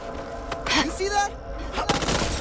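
Friendly gunfire in the Back 4 Blood shooter comes as short bursts of rapid shots, one cluster early and another near the end, mixed with voices and game noise.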